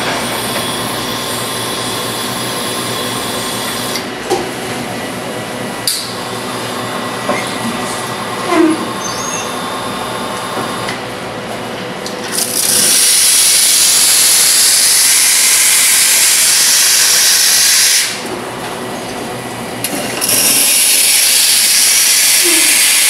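A Lanna espresso coffee machine on a test run after repair, with a steady mechanical hum and faint voices, then loud sustained steam hissing bursts starting midway, pausing briefly and resuming.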